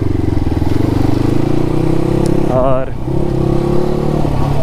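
A motorcycle engine, likely the Bajaj NS 200, runs loudly and steadily close by with a throbbing idle and a brief rev, while someone speaks over it.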